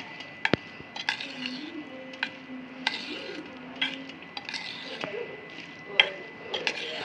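A spoon stirs mayonnaise into a paneer and cheese sandwich filling in a bowl, with scattered clinks and scraping against the dish while someone talks faintly nearby.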